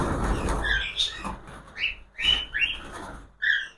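Cockatiels, a black paired with a lutino and a grey with a pied, give several sharp, bright chirps and short whistled calls in irregular bursts, close by, over a low background hum.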